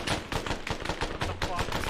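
Rapid gunfire in the military shooter ArmA, a quick run of sharp repeated shots over roughly two seconds, fairly loud and close, with faint voices underneath.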